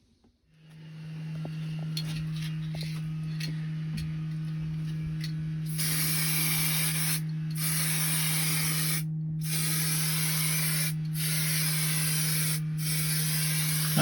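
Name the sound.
sanding a cracked shower tray repair with sandpaper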